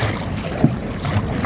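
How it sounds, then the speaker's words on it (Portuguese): Steady wind roars over a sailboat in strong conditions, with broadband gusting noise, a little water movement and brief low buffeting thumps against the microphone. "O vento está um pouco forte demais"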